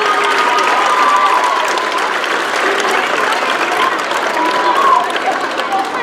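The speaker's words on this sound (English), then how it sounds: "let's give him a round of applause for all of his support" An awards-ceremony audience at a football league banquet gives a round of applause for a team mentor, a full, even wash of clapping that holds steady for several seconds before fading slightly.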